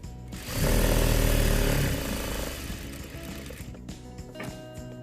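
A sewing machine stitches over elastic on a fabric face mask, a loud rapid motor buzz that swells at the start then eases into a quieter run with light mechanical clicks, with no talking.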